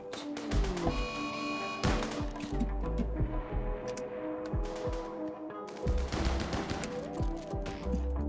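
Rapid bursts of gunfire from the video game RimWorld, with shots clustered into dense volleys and brief lulls, loud and close over a steady layer of game music, with no talk.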